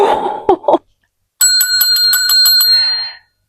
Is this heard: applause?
no